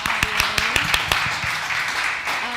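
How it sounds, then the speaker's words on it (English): An audience claps for a guest's mother at a live talk event, with a handful of sharp separate claps in the first second thinning into scattered, light applause as a voice speaks faintly in the background. "Clap it up for her"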